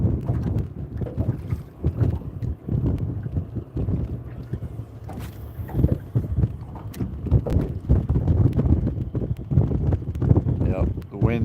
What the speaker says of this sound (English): the wind's picking up again